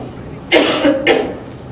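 Two sharp coughs in quick succession, close and fairly loud, with a short pause between them.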